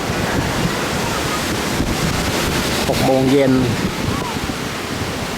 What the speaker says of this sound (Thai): เสียงคลื่นทะเลซัดสา โขดหินข้างล่าง